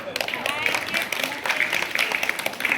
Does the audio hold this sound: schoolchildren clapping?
yes